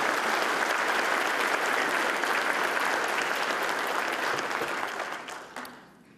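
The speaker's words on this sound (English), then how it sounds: "give a quick round of applause to our partners on the campus" Dense audience applause at a city's State of the City address in Aurora, Colorado, a full room clapping steadily and then tapering off over the last second or two.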